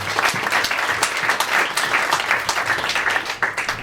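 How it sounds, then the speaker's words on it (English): Sustained applause from a tech meetup audience for two speakers, a dense and fairly loud patter of clapping that stays even throughout. "another round of applause for both our speakers."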